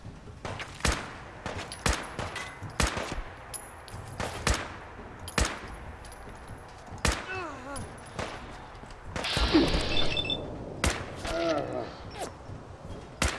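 Fallout 4 gunfire: sharp, loud single shots crack out in irregular bursts, with brief in-game voices and a hissing blast in between.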